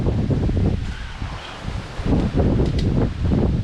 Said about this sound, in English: Oh, so windy.